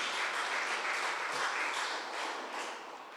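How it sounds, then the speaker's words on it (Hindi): A church congregation claps together in a warm, steady burst during a service, fairly quiet and close, fading slightly toward the end with no voices over it. "क्यों ना हम लोग ताली देते,"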